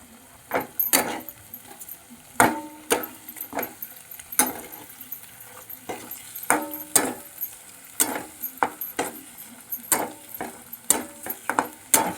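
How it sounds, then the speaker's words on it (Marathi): Eggs frying in oil with masala in a pan, with repeated sharp spatula clacks and scrapes at an irregular rhythm over a faint low sizzle. "असे अंडे फ्राय करून घेतले"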